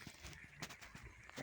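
A mare's hooves clip-clop at a steady walking rhythm while she is ridden along a village path, close and fairly loud, with a few soft extra knocks in between.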